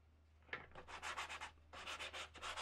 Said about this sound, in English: Then I use some sandpaper again.